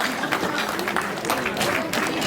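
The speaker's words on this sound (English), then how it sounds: "Audience, please cheer them up." Audience applause for prize winners at a women's association celebration of International Women's Day, a brief burst of scattered clapping with crowd noise and voices mixed in.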